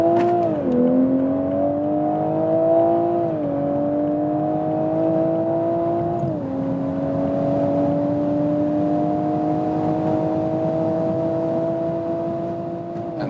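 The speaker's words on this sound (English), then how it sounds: "So we'll accelerate now from 60 kilometers up to" A 2020 Toyota GR Supra accelerates hard on the Autobahn from about 60 km/h. Its engine note climbs steadily from inside the cabin and drops briefly at each gear change.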